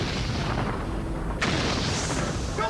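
A gas explosion roars as a dense, rumbling wall of noise, with a sharp, louder blast about halfway through that keeps booming afterward.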